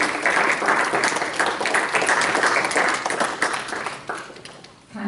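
Family and guests at a National Junior Honor Society induction applaud newly inducted members holding candles: full, dense clapping from a sizable crowd that holds steady, then thins and fades toward the end.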